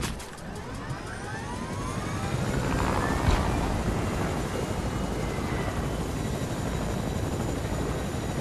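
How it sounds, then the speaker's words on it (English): Helicopter in the video game Fortnite, its rotor and engine drone swelling as it draws near and peaks midway, then holding steady and loud, with no voices. "I'll bring the helicopter."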